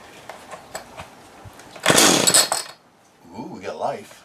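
A Homelite chainsaw with a rebuilt carburetor and clutch, primed and choked, is pull-started and sputters briefly into life with a loud burst of running engine noise, followed by quieter handling sounds.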